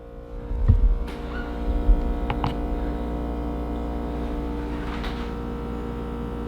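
A kitchen refrigerator that seems close to failing hums steadily with a low, even drone, a few faint clicks and knocks rising over it near the start.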